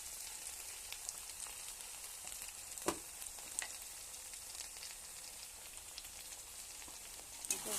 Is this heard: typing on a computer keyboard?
no